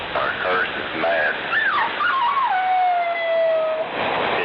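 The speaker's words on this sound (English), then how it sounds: "Oh, that was my dog." A dog howls and whimpers close by, rising and falling yips that stretch into a long, sliding, sustained howl before trailing off, with people talking faintly around it.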